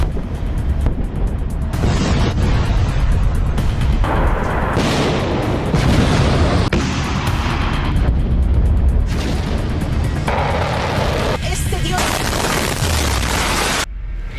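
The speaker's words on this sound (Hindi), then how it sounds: "ईरान तेल अवीव को निशाना बना रहा है और इजराइल ईरान के मिसाइल को इंटरसेप्ट कर रहा है।" Missile strikes and interceptions over Tel Aviv: a long run of loud, dense booms and blasts with rumbling roars and sharp bursts that follow one another across the whole stretch, with no talking.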